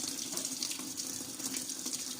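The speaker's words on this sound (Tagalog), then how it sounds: "nagpupuno na siya ng tubig" Panasonic automatic washing machine filling its tub with water from the supply at the start of a tub-clean cycle, a steady, close rushing gush like a running tap that holds even throughout with no voices.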